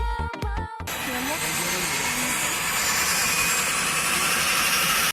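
A seaplane on the Bandırma–Istanbul route roars with a steady, loud engine drone that fills the clip, coming in abruptly after a brief musical sting.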